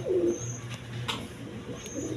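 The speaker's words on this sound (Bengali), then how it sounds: "দর্শকবৃন্দ এইখানে আরেক পেয়ার রাজগোল্লা কবুতর আছে দেখেন রেড কালারের মধ্যে" A pair of red Rajgolla pigeons coo at a pigeon seller's stall, a low throaty call opening the stretch, with brief clatters and faint birdsong around them.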